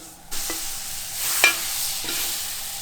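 Seasoned channel catfish fries in butter in a skillet, a close, steady sizzle with a few sharper spits and scrapes of a utensil against the pan.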